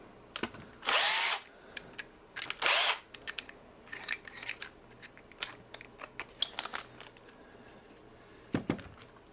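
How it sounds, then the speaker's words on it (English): A big DeWalt power drill whirs in two loud, sustained bursts during an install job, followed by scattered clicks, taps and handling knocks, with one more short burst near the end; no talking. "today we're going with this big old DeWalt drill"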